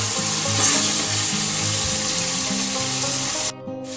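Ginger-garlic paste sizzles steadily in a hot pan while being stirred for a Mughlai chicken curry. Low music plays underneath, and the sound cuts off abruptly near the end.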